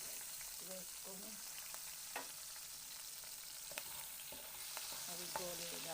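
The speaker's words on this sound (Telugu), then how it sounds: "అవి గోలేదాకా వేయించుకోవాలి" Green chillies fry with mustard seeds in hot oil, giving a continuous soft sizzle with scattered pops and crackles and occasional stirring clinks, close and fairly quiet.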